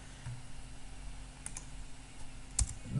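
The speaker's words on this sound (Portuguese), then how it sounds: "Só clicar aqui, apertar Enter e colocar o nome que a gente quiser" Soft computer keyboard typing and mouse clicks as a layer is renamed in After Effects, a few quiet scattered taps over a low room hum with no talk.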